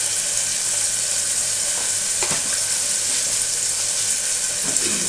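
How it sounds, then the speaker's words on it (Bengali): Onions frying in a pan for Bengali mutton kosha, a loud, continuous close sizzle with a couple of quick spatula stirs breaking through. "বন্ধুরা দেখো পেঁয়াজটা ভাজা হচ্ছে,"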